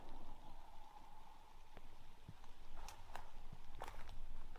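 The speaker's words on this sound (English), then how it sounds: "And it's raining right now" Rain falls outdoors beside the Sacramento River near an old cemetery, a steady patter of drops on surfaces mixed with scattered footsteps, close and fairly quiet.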